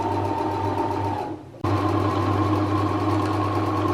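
A sewing machine stitches bias binding around the edge of a quilted vest made from pillowcases, working around a mitered corner. It runs with a close, steady hum, pauses for a moment, then resumes at the same even pace.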